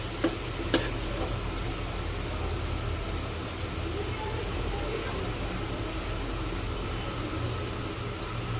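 Stuffed okra packed with spice masala fries in a pan after being turned over, producing a soft, continuous sizzle and faint crackling that stays low and even, with a couple of small clicks near the start.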